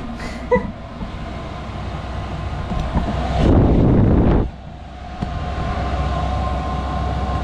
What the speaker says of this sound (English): Diesel heater is cranking.